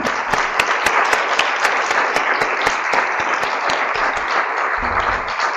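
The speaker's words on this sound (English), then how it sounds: "can we give our panelists a round of applause?" An audience at a public meeting on idiopathic pulmonary fibrosis drug development applauds its panelists: dense, steady clapping with sharp individual claps standing out, loud and close, no talk.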